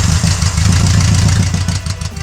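A 1960s car engine idling close by, loud and steady with a rough, rhythmic low-pitched throb and no voices over it.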